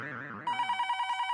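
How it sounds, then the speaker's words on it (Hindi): A telephone rings in a domestic scene from a TV comedy, with a steady repeating electronic ring pulsing close and clear right after a voice stops. "दया सुंदर का फोन तो मुझे दे।"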